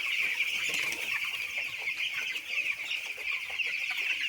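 A shed of about 1000 broiler chicks from the Pushtiraj company keeps up a dense, continuous chorus of high peeping and clucking, moderately loud and close, with no voices over it.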